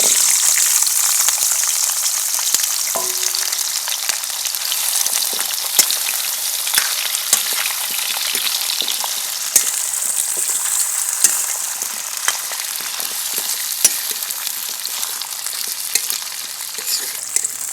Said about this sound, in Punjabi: ਆਪਣਾ ਤੇਲ ਗਰਮ ਹੋ ਗਿਆ ਤੇ ਹੁਣ ਆਪਾਂ ਔਲੇ ਤੇ ਅਦਰਕ ਪਾਵਾਂਗੇ